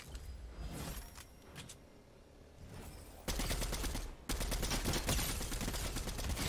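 Enemy gunfire in Fortnite comes as scattered shots at first, then turns into dense, loud rapid bursts that rattle on without a break through the second half.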